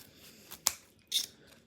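Scissors snip at a kitchen table where crispy fried pork chop is being cut up, giving a few sharp, close snips, one quick crisp cut followed by a longer rasping one, in an otherwise quiet room.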